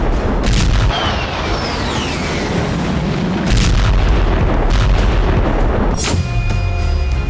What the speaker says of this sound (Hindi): बेलारूस में फिर रशियन फाइटर्स बमबारी कर रहे हैं